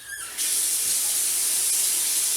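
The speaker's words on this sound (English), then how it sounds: "So I put in 2 cups of rice, now I put in 4 cups of water." Water pouring steadily into a pot holding two cups of rice, a loud, continuous broadband rush that starts abruptly and runs on alone without talk, like a tap filling a vessel.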